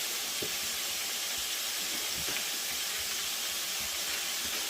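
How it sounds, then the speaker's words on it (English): Sausage or other food frying in a pan while chili is being cooked, a steady broad hiss and sizzle that holds throughout with a few faint knocks underneath. "While that's frying"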